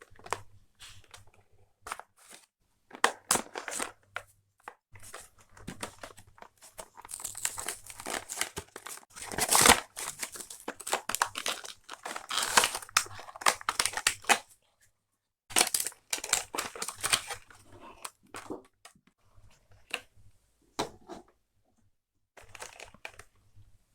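Beyblade Burst Rise Hypersphere Glyph Dragon D5 toy being unwrapped from its packaging, with close, irregular bursts of plastic crinkling, crushing and tearing over about twenty seconds, pausing briefly now and then.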